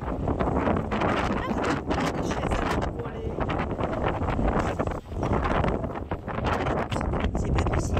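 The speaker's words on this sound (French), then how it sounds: "Je suis poussée par le vent." Strong storm wind gusts loudly and continuously against the microphone, with rustling and buffeting and brief lulls.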